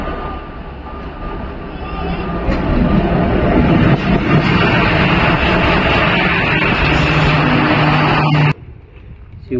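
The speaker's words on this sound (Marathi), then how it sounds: "ही बघा मुंबईची लाईफलाईनला चालली आहे तिकडून लोकल ट्रेन." A Mumbai suburban local train rolls past nearby with a loud, continuous rumble and rattle that builds and holds for about eight seconds, then cuts off abruptly.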